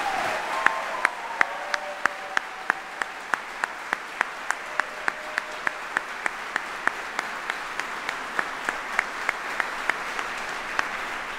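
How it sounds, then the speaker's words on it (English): An audience in a hall at an Army general's retirement ceremony applauds the Old Guard soldiers, a steady wash of many hands sustained for several seconds with sharp individual claps standing out above the crowd. "please join me in a round of applause for the Old Guard soldiers"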